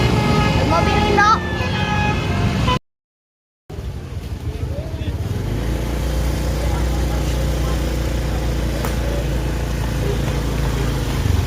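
Bus telolet horns on Indonesian buses blare in loud, sustained musical toots over steady road and engine rumble, with a brief dropout midway and voices talking around them.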